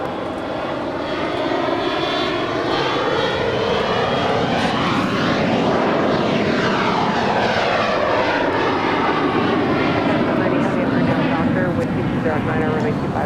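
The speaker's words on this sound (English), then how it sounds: "That Bombardier Global Express is departing to Sheboygan." A Bombardier Global Express business jet departs LAX, its engines a loud sustained roar that swells and shifts in pitch as it passes, heard outdoors at an airport.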